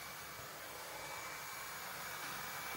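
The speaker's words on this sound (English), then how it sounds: "Using a vacuum, let's gather up as much debris from previous prints and any dust that came out of our fans." A vacuum cleaner sucking up debris and dust from an Elegoo 3D printer, a steady whooshing motor roar with a faint high whine, continuous and fairly quiet, growing slightly louder toward the end.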